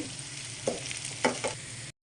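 Onions fry in hot oil toward golden-brown beresta, a steady close sizzle with a few sharp scraping stirs of a spatula against the pan.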